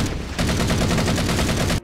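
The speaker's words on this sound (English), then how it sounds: "it sounds like the Halo 4 assault rifle" Automatic fire from a Halo 4 style assault rifle in a modded Halo game: a rapid, loud, evenly spaced burst of shots running for over a second before cutting off sharply.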